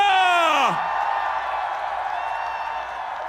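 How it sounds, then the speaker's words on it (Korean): A rally crowd lets out a loud falling whoop and cheer that quickly drops into a steady roar of applause and shouting, dense and sustained from nearby. "큰 박수와 함성 부탁드립니다"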